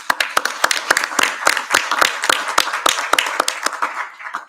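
Applause rings out at a Board of Education meeting, a round of clapping with many distinct hand claps in a dense, fairly close patter that carries steadily for several seconds before thinning out.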